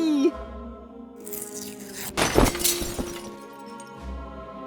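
Glass shattering in the Deponia Doomsday video game as birds crash through a stained glass window, a sharp burst of breaking and scattering shards over game music.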